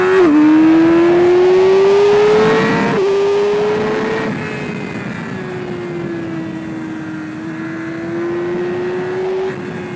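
A new motorcycle accelerates while being ridden, its engine droning loud and close and climbing in pitch through several gear shifts before settling into a steadier, slightly softer cruise, with no talking.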